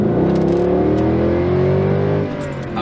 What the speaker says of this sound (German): Wenn man hier jetzt voll durchlatscht, dann gehen einem hinten die Räder durch, weil er die Kraft gar nicht auf die Straße bringt.